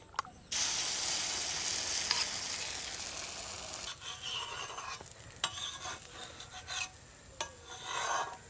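An omelette fries in a pan with a loud, close, broad sizzle that begins abruptly, then softens and swells, broken by a few scraping, rasping touches of a utensil against the pan.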